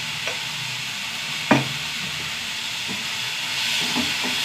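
Beetroot goes into a hot pan and is stirred, giving a steady sizzle and hiss with a sharp clatter about halfway through and faint scraping afterward.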